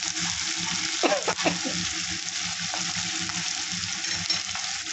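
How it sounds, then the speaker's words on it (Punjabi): Garlic frying in hot oil in a home kitchen, a steady close sizzle with a few stirring scrapes, no talk over it. "ਤੇਲ ਗਰਮ ਹੋ ਚੁੱਕਿਆ ਲਸਣ ਇਕੱਠੇ ਪਾ ਦਾਂਗੇ ਭੁੰਨ ਨਾਲ ਕੱਢ ਦੇਣਾ"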